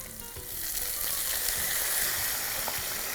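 Sweet potato pieces fry in hot oil with curry leaves in a pan, giving a loud, continuous sizzle with occasional stirring scrapes, close up and without talk.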